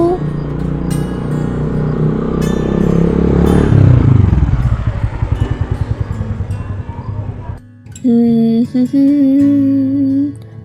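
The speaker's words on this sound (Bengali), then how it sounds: "আর ঠিক সেই সময় স্কুটারে করে চলে আসে আমাদের অংশু" A scooter rolls up close, its engine rumbling loudly then sputtering down in rapid uneven pulses before cutting out; a voice then speaks over a quiet background.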